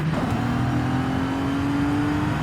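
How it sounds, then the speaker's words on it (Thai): A Bentley Continental Supersports with a W12 engine in Forza Horizon 5 gives off a loud, steady engine drone that rises slightly in pitch as it revs, heard close and alone. "แค่มันก็คือเครื่องฝั่งละ6 สูบแหละนะครับแต่เพียงแค่เขาย่นกระบอกสูบเข้ามาให้มันเป็นตัว W"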